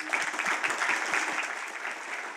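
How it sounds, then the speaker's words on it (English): A short burst of applause from a conference audience after a technical talk, steady clapping at moderate level lasting a couple of seconds. "let's give him a round of applause."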